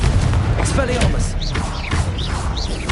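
A disarming spell fired in a wizard video game, several booming thuds and mechanical clanks with rising whistling zips, loud and close over about three seconds.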